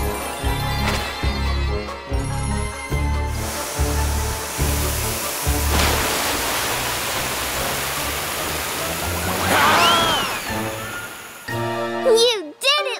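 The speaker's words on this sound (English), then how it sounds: "I'll get you with the water cannon!" A cartoon-style hissing spray of water, building into a sustained whoosh after rhythmic musical thumps, with playful voices and jingly effects near the end.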